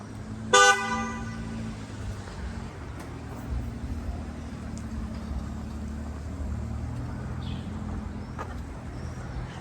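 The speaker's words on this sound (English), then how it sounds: "The honking was for a car that was on the way of these people coming out of the car." One short, loud car horn honk sounds near the start, followed by steady street traffic noise with distant engines in Tbilisi, Georgia.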